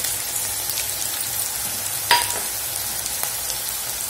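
Spices frying in a pan with ginger-garlic paste and chili powder for bitter gourd curry, a steady loud sizzle throughout with a brief stirring clatter near the middle.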